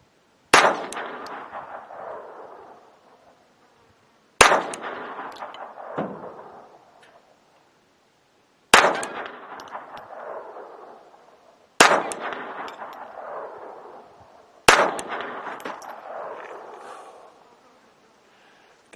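Five sharp pistol shots from a Ruger LCP II in .22 ring out one by one at slow, even intervals of about four seconds, each crack trailing a long fading echo outdoors.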